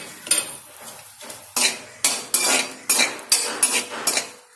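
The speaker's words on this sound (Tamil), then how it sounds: "இதில் நம்ம கட் பண்ணி வச்சுருக்க பூண்டு இதையும் சேர்த்துக்கிறேன்." Chopped garlic sautéing in sesame oil in a pan, stirred with a metal spatula that scrapes and clinks against the pan in a quick, repeated rhythm of about eight strokes. The scraping is close and fairly loud, with only faint sizzling underneath.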